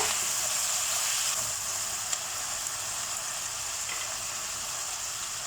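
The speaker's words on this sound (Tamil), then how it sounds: "இது எல்லாத்தையும் சேர்த்துட்டு நல்லா கொஞ்ச நேரம் வதக்கி விட்டுருங்க" Onion, tomato and dried chillies are sautéed in a pan for paneer butter masala, giving a steady, even hiss of frying throughout. The sizzle is broken only by a faint clink or two.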